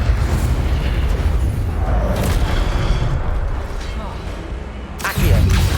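A fire spell cast in Hogwarts Legacy, heard as a loud, dense booming burst of flame over continuous game noise, with a fresh sharp eruption near the end.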